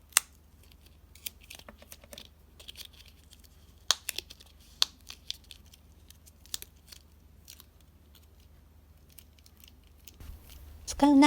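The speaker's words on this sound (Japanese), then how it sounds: "使う長さでカットします。" Scissors snip paper for a pop-up Halloween art journal, a few faint, sparse crisp cuts and small clicks spread across a quiet background, with a brief louder rustle at the end.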